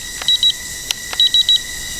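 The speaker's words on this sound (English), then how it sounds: "a very faint beeping in the controller" A JJRC H30 nano drone's controller gives short, faint electronic beeps, two quick beeps, then a click, then a run of three, over a quiet background hiss.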